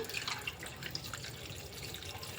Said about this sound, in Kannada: ಅದು ಮುಳುಗೋ ಅಷ್ಟೊಂದು ನೀರು ಹಾಕ್ತೀನಿ